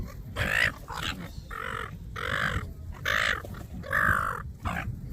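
Harsh, repeated cawing from a flock of noisy evening birds in Australia, a rapid series of close, loud calls with rough, grunting tones, one after another with almost no pause between them.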